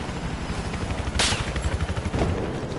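Rapid automatic gunfire during a Battlefield 4 conquest match, a dense continuous rattle of shots with a sharper burst partway through, loud and close with no talking.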